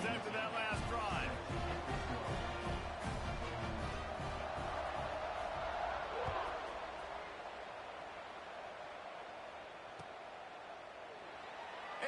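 Football stadium crowd roaring in a broad, sustained wash just before kickoff, loud at first and easing slightly later, with an announcer's voice talking over it.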